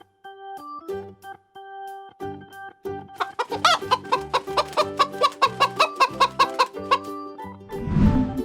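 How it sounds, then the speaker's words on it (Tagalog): Chicken clucking for a farm-animal guessing quiz for kids, a loud run of rapid, rhythmic clucks over a tonal musical background, ending in a brief burst of noise. "Chicken."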